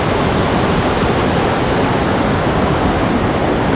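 Clear river water rushes near a waterfall, a loud, dense and unbroken roar that stays close and constant throughout, with no voices.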